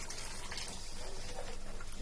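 Water poured into a pan of seasoning with garlic powder and salt for a seafood Cajun sauce, a steady close splashing and trickling wash that runs the whole time without pause.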